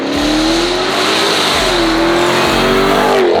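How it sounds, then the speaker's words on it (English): A supercharged 6.2-litre GMC Sierra Denali pickup engine revs hard and close, its pitch climbing and dipping through several surges in a loud continuous roar. "It revs out really nice, makes cool sounds."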